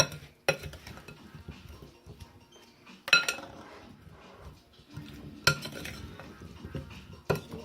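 A utensil stirs roasted potatoes tossed with olive oil and seasoning in a bowl, giving several sharp scraping clanks against the dish between quieter shuffling, up close with no talking.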